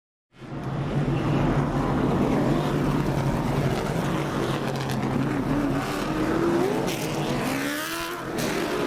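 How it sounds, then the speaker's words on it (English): NASCAR late model stock cars race at Langley Speedway, their engines a loud, continuous roar with rising and falling pitch as the cars pass. The sound cuts in abruptly and eases slightly near the end. "The NASCAR late model stock cars with Nick Smith and Matt Waltz up front"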